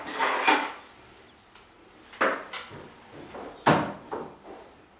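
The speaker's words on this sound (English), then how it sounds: "Open the door at 45 degrees." Door being swung open, several distinct wooden knocks and thuds spaced about a second and a half apart, with softer creaks and rattles between them; close, no talking.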